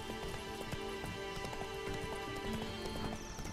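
Horse hooves clip-clop steadily in The Witcher 3, a continuous trotting rhythm over game music and ambience, with an occasional whinny-like tone, at moderate level with no talk.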